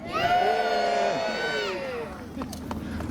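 An outdoor audience at a wartime show cheers and whoops together in a loud, sustained burst that fades after about two seconds into scattered crowd murmur.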